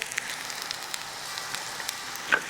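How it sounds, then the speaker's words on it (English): Soft, crackly sizzling with scattered small pops, a quiet steady frying hiss from tortillas in a pan, no talking. "See, listen to the sizzle."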